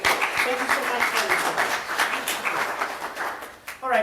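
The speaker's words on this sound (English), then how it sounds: "All right, a big clap to Kerry." An audience at a sanitation research presentation session applauds a speaker with a steady spread of clapping, and a voice briefly starts speaking near the end.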